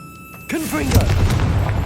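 A Confringo blasting spell from Hogwarts Legacy, a short whooshing cast followed by a loud booming explosion that rumbles and fades over under two seconds.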